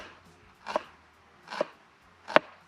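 A knife cuts through food on a cutting board, giving three separate, crisp chopping strokes spaced evenly apart, close and clear against a quiet background.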